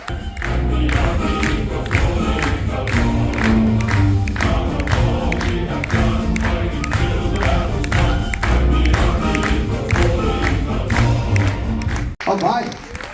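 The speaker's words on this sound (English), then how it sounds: "Let's give a big round of applause." An army of fans gathered on board the Venezia gives a big round of applause and cheers, a loud, dense, sustained wall of crowd noise with rhythmic clapping running throughout, ending abruptly.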